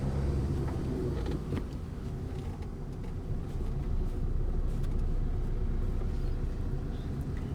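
A car on a driving-lesson road accelerating and shifting into second gear, a steady low engine rumble with a slight dip near the gear change, heard from inside the cabin without talk.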